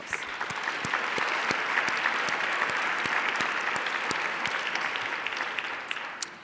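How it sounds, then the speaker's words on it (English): Audience applause at a donor recognition event, many hands clapping in a full, even wash with sharp individual claps standing out, swelling quickly and fading slightly toward the end. "Let's give them a round of applause."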